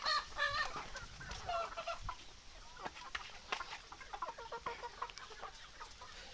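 Free-range desi hens on a poultry farm cluck and squawk in busy overlapping bursts throughout, with a rooster-like call near the start. Faint farmyard noise sits underneath.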